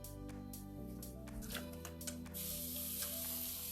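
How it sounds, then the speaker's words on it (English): A spray bottle mists water onto Dixie Belle paint on a small dresser, giving several short hissing bursts followed by a longer sustained spray, close and faint. "I use a lot of the spray bottle when I paint, and I'm wetting it down because it's very porous"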